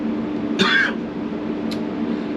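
A single short cough sounds close by, followed moments later by a faint brief click or throat sound over a quiet steady background hum.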